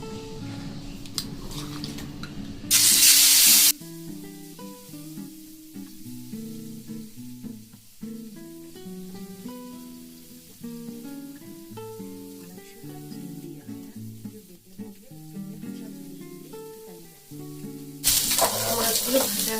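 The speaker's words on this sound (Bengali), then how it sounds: "একটু তেলে দিয়ে, গরম তেল দেখুন হয়ে গেছে, দিয়ে একটুখানি এপিট ওপিট করে তুলে দেবো" Fish pieces hit hot oil and sizzle in two short, loud bursts, one early and one at the end. Music plays in between.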